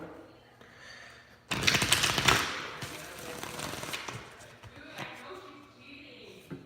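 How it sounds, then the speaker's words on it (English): Tarot cards being shuffled: a sharp riffling burst that lasts about a second, then softer, scattered card handling and faint clicks. "gonna give you guys one more shuffle"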